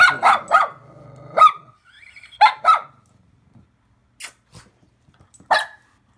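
An anxious, nervous dog barks in short, sharp bursts, a few in quick succession, then sparser yips with quiet gaps between them.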